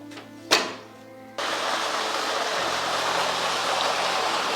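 In a village with water shortages, a thunk is followed by an electric water pump motor starting up, and a steady, loud rush of water fills containers without letup.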